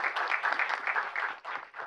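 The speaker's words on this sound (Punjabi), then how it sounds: "ਤਾਲੀਆਂ ਤੇ ਮਾਰੋ" Audience at a public event in Chandigarh clapping loudly, a dense burst of applause with quick rhythmic claps that dips briefly before picking back up.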